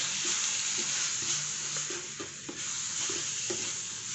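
Beef stir-frying in a wok with mala chili sauce, a constant loud sizzle with rhythmic scraping strokes of the spatula, close and without speech.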